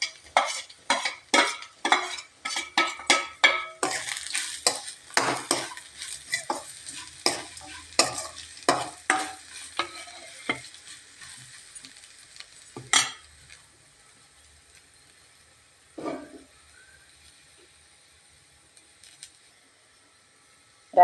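Crushed cumin, garlic, shallots, curry leaves, coconut, turmeric and chili powder are stirred in a frying pan for a thoran, with rapid, sharp scraping and clinking strokes for about thirteen seconds, then a few sparse stirs over a soft sizzle.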